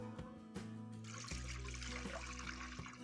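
Ration rice is washed in water in a home kitchen, with faint trickling, swishing and light splashes plus a few small knocks against the vessel, quiet and close, without talk.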